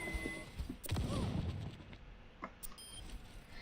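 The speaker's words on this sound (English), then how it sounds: "But, Bastion, that is a lot of damage just for 4 shots. And his grenade," Bastion's grenade detonates in the video game Overwatch, a sharp burst near the one-second mark that crackles and then decays, with gunfire-like pops and a busy game mix around it.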